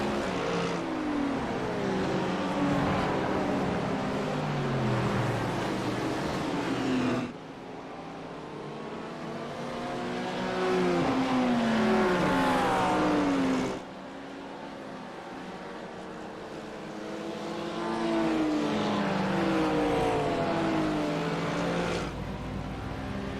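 GT3 race cars at Brands Hatch in a racing game, engines droning loudly and continuously as a pack passes, with rising and falling revs, gear changes and repeated surges every few seconds.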